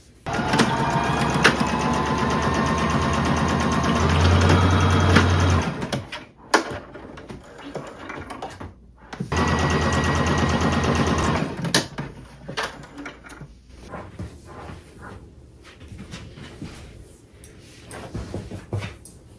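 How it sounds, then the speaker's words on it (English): A sewing machine running a straight stitch on thrifted clothing, sewing in two steady mechanical runs of about five seconds each, close and loud, separated by handling clicks and rustles. "Now we can sew straight down this part on each piece"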